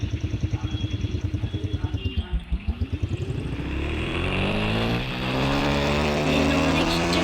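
A video-game motorcycle engine idles with a rapid, pulsing putter, then revs up into a loud, rising drone as the bike pulls away.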